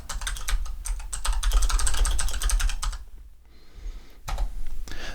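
Fingers type text on a computer keyboard in a fast, steady patter of clicks, a short pause, then a few more keystrokes at the end.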